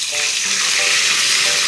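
Chicken wings frying in hot cooking oil, a steady dense sizzle that stays loud and close throughout with no talk over it.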